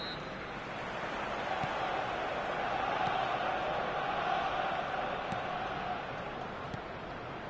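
A steady, full stadium crowd roar fills an eFootball 2023 World Cup match between Ghana and Portugal at Emirates Stadium, a constant wash of distant voices with faint commentary-like talk mixed in.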